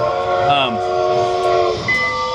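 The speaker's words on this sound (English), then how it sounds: "That train's following us around, baby." A train passes close by on International Drive in Orlando, its steady horn-like tones sounding loud and near, with a brief rising squeal and a higher whistle toward the end.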